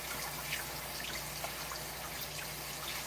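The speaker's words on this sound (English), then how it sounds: "Wash my hands." Tap water runs steadily while someone washes their hands in a home kitchen between kneading dough and boiling water, a soft continuous trickle and splash at close range with no talking.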